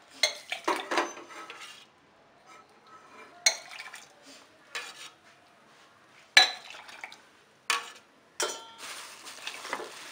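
Spoon clinking and scraping against a metal pot while sugar is stirred into milk, in short irregular bursts of clatter with quiet pauses between.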